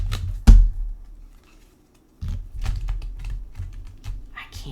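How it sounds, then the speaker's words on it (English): A deck of tarot cards is shuffled by hand, giving rapid papery riffling and clicking bursts in several close, uneven bursts separated by brief pauses. "Do some shuffling up."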